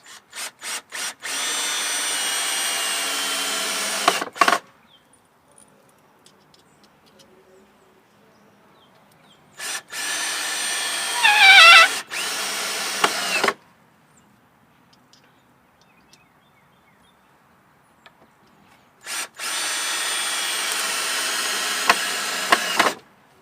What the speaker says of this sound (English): And put in your screws.